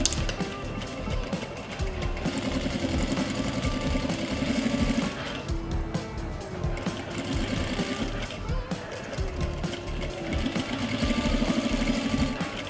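A sewing machine stitches a double-strip back pocket in steady mechanical bursts, running, pausing briefly and running again, close and even throughout.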